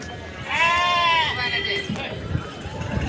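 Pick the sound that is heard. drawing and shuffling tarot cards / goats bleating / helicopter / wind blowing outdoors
goats bleating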